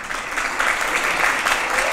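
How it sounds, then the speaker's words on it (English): An audience at an education event honoring teachers, students and educators gives a round of applause, steady and fairly loud clapping from many hands for the whole stretch. "let's all acknowledge these teachers and students and educators everywhere with a round of applause"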